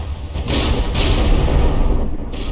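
Heavy, rumbling explosions from shell hits on a battleship in a video game boom continuously, a dense low thundering barrage with a few sharper blasts on top.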